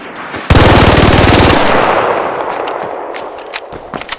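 The Bobcat gun in a video game fires a loud, rapid burst of automatic gunfire for about a second. Its tail rings out and fades, followed by a few faint clicks and taps.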